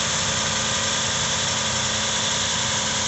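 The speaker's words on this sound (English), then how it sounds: "And start the car, let the oil circulate it, and check for leaks" A 2007 Toyota Highlander Hybrid idling just after an oil change, a steady close engine hum with a low vibrating drone and no talking.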